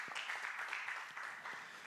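Church youth congregation at an Easter Sunday service applauding, a faint, brief patter of clapping heard from a distance with no speech over it.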